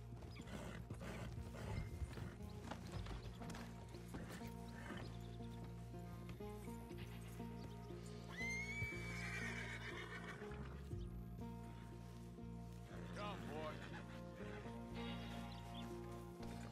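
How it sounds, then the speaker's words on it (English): Horses in the video game Red Dead Redemption 2 whinny loudly over a dense, continuous mix of clopping hooves and game background sound, with several neighs rising clearly partway through. "Let's get to these horses."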